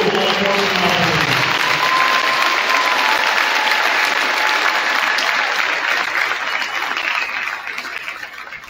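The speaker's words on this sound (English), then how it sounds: "Please join me in a round of applause for appreciation for our local law enforcement officers." Steady crowd applause fills a high school gym at a boys basketball game in honor of local law enforcement officers, sustained and dense for several seconds before gradually thinning at the end.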